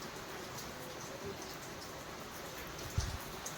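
Rain falls steadily in a soft, even wash of noise, with a single dull thump near the end.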